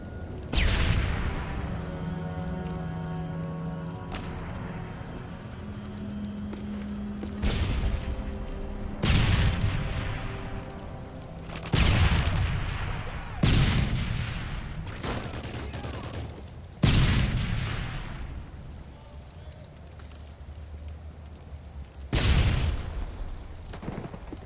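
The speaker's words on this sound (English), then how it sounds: "Friendly Predator missile inbound." Predator missile strikes in Call of Duty MW3 multiplayer on the Resistance map: a string of heavy booming explosions, several loud blasts several seconds apart with long rumbling tails over background battle noise.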